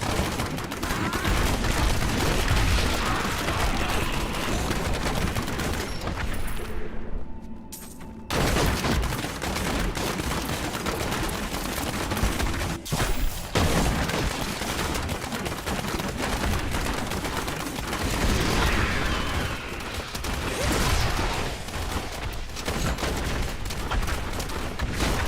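A Diablo 3 Demon Hunter's automatic grenades pound away in a relentless stream of rapid explosions and gunfire-like bursts that briefly break off partway through before resuming at full intensity.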